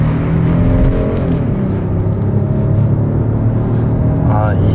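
A gold-silver Genesis G90 sedan pulls away and accelerates, a steady low engine hum and road noise holding loud and close throughout, with a brief rising tonal sweep near the end.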